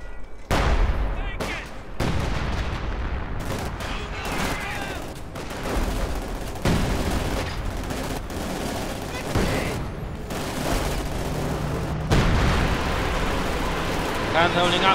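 Panzerwerfer rocket artillery and gunfire in Company of Heroes 2 make a dense din of blasts, whooshes and rattling small-arms fire. The battle continues without a break, with a commentator talking over it.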